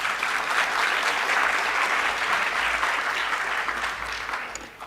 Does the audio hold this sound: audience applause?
yes